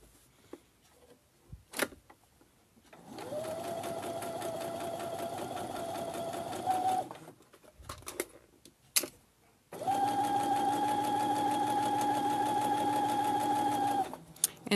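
A sewing machine stitches the corner of a fabric tote bag in two steady runs of several seconds each, whirring close and even, with a short pause and faint handling sounds between them.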